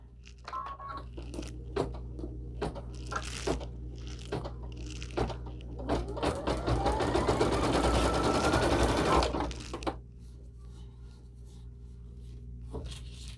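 A home embroidery machine stitches with Simthread thread, close up: rapid ticking needle strokes build into a dense, louder whirring burst in the middle, then drop back to sparse clicks.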